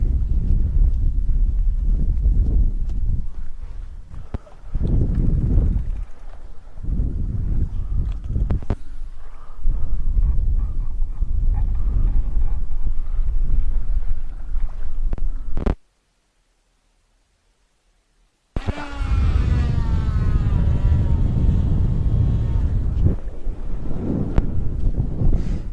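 Strong coastal wind buffets the microphone on a UK shore during sea fishing, a loud, continuous roar with gusty swells, briefly cut to silence midway before the rumbling gusts resume.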